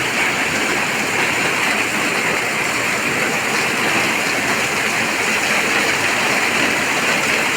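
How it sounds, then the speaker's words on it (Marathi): Torrential monsoon downpour in Konkan, with water pouring off a metal sheet roof, a dense unbroken roar of heavy rain that stays loud and steady throughout. "पाऊस कमी होतो आणि मध्येच वाढतो त्याचा जो आवाज आहे ना ऐकायला एकदम एकदम भयानकच वाटतं"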